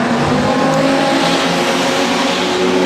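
Production sedan race cars roar together in a B-main race at Moora Speedway, with loud, steady engine noise filling the air continuously and close by.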